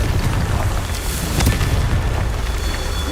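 Magical blast spell going off in a Harry Potter video game, a loud rumbling boom with a burst of crackling noise that swells and fades over a few seconds, alone without speech.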